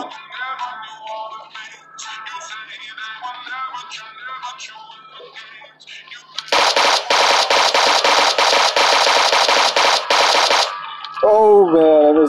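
Rapid gunfire from a video game bursts in loud and dense for about four seconds. Sustained automatic shots follow a stretch of game music and effects, with a short tonal sound afterward.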